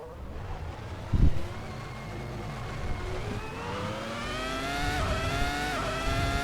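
A race car in a sim racing video game accelerates through its gears, the engine whine climbing steadily in pitch with brief dips at each shift, loud and close, after a short low thump near the start.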